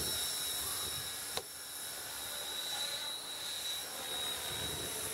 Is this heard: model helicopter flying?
yes